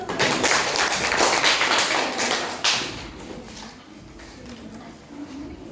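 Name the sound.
class clapping hands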